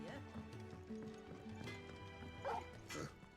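A dog barks a few times in the video game Final Fantasy 16, short faint yips mixed with clopping hoofbeats and game ambience, with talk running over them.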